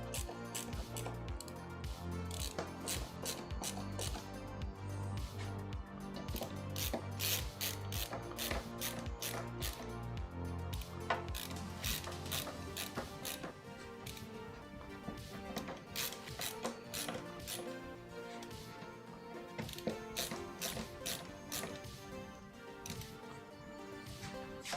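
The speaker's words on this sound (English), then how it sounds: "I'll go around the outside, tightening everything up." Bolts being tightened around the frame of an Ultimaker Original 3D printer, giving a long run of close, loud ratcheting clicks and metallic rattles in quick irregular bursts, with no talk.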